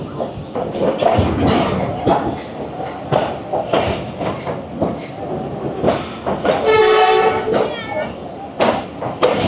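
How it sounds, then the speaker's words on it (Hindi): The Jaffar Express passenger train rolls into Gujrat station with rumbling wheels and clanking cars, and a horn sounds briefly midway while someone talks over the noise. "2:42 पर जाफ़र एक्सप्रेस 40 डाउन पहुँच गई गुजरात स्टेशन"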